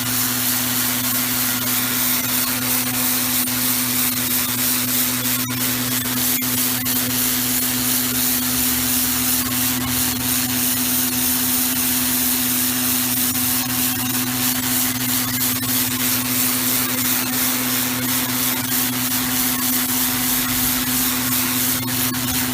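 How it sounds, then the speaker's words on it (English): A Scorpion pressure cleaner sprays steadily at close range, a loud continuous hiss with a constant motor hum underneath and no pauses. "I'm going to hit it with the Scorpion pressure cleaner and show you what it does."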